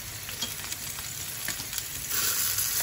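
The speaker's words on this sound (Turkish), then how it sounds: "Patlıcanlarımızı iyice kızartalım." Continuous crackling sizzle of eggplant slices frying in hot oil, close by, with small pops and a steady hiss that swells toward the end.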